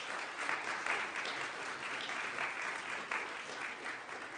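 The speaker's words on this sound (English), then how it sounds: "can we have a quick round of applause for all these people?" A panel-discussion audience gives a quick round of applause for student volunteers, with dense, even clapping that holds steady from start to finish at a moderate distance.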